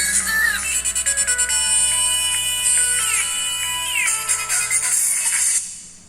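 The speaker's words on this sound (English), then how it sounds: "let's check the sound quality and check Nokia ringtone" The classic Nokia ringtone plays from a Nokia Lumia 625 phone: a bright, loud melody of quick repeated notes that runs for about five and a half seconds, then fades out.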